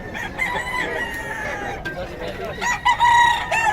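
Stag gamecock rooster crowing loudly and close, a drawn-out cock-a-doodle-doo with clucking fowl around it and people talking in the background.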